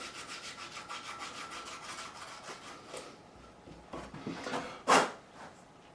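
Fine 400-grit sandpaper rubs back and forth over the edges of a bone nut on a Squier 40th Anniversary P Bass, a steady close rasping rhythm that pauses briefly before a few sharper final strokes.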